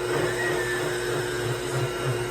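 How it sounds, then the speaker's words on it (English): A blender whirs steadily while mixing a Herbalife shake, its loud motor drone holding a constant pitch with a slight pulsing churn underneath and no talking. "you're going to blend this to get it going"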